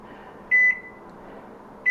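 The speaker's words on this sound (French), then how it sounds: "tu la mets 1 minute et demie au micro-ondes" Microwave oven running with a steady low hum while heating a rolled towel, a short double electronic beep near the start and another beep at the very end.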